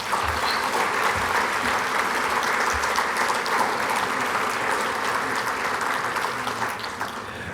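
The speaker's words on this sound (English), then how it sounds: "reserve a deserving round of applause from Philadelphia area" A crowd applauds at the 2024 Luzerne County Sports Hall of Fame induction ceremony, steady sustained clapping filling the hall and easing slightly toward the end.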